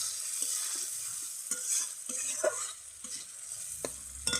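Spice paste of turmeric and chili powder frying in oil in a pan for a jackfruit curry, with a soft steady sizzle and intermittent scraping stirs of a spoon against the pan, close and without talk.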